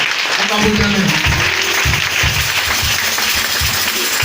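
A church congregation bursts into sustained applause at a French-language seminar, steady dense clapping filling the space throughout, with a voice talking over it.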